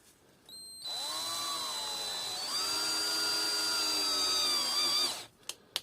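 A power drill with a 3mm bit whirs at high pitch for several seconds drilling into a Vauxhall Opel 1.9 CDTI metal inlet manifold, briefly bogging down and speeding up again before stopping, followed by a couple of small clicks.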